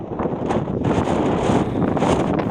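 Strong wind buffets the microphone in a steady, roaring rush with gusty swells, loud and continuous throughout, at an F5J glider competition in Matkó, Hungary.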